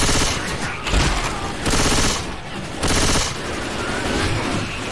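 Sustained machine gun fire from Left 4 Dead 2, loud rapid bursts in several surges with brief lulls between them, dense and close.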